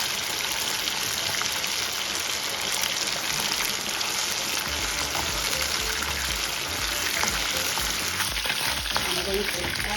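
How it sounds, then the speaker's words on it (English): Chicken frying in a pan for spaghetti with tomato sauce: a steady, dense sizzle runs throughout at an even level, with a low bubbling rumble joining partway through, and no talking. "I'm going to allow this to fry"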